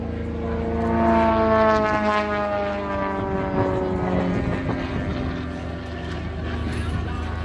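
Propeller aircraft flying an aerobatic display at the Old Buckenham Airshow in gusty wind, engines droning with a shifting, rising-and-falling pitch as the planes pass, fairly near.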